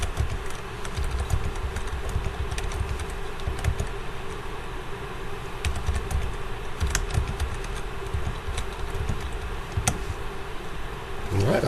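Small plastic calculator keys are tapped in quick, irregular runs of clicks over a low steady hum. The presses are soft and close.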